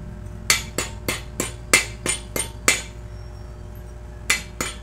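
Sharp metallic hammer taps chip slag from a fresh weld seam on steel tube, about ten ringing strikes in a quick uneven rhythm with a short pause before the last pair, close and clear.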